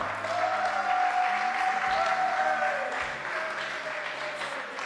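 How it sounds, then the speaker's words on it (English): Audience applause at a para shooting award ceremony for the men's 10m air rifle standing SH1 event, a steady, dense clapping that fills the room for about five seconds and fades slightly toward the end, with a faint tone over it. "Here, a big applause for Swarup Mahavir Unhalkar."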